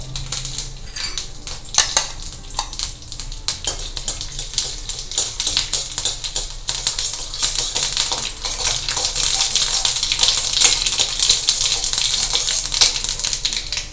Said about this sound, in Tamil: கடாயில் வந்து எண்ணெய் விட்டுருக்கேன் அதையும் பற்ற வச்சுருக்கேன் பாருங்கள் எண்ணெய் காஞ்சிடுது கடுகு கொஞ்சோண்டு உளுத்தம்பருப்பு கொஞ்சம் சீரகம்